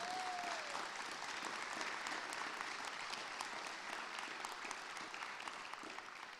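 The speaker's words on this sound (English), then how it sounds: "can you also give a big round of applause to all of the faculty and staff members that have had such an impact on you?" A graduation audience applauds faculty and staff with sustained, dense clapping that holds steady and is moderately distant, then starts to taper off at the end, with a brief whistle at the start.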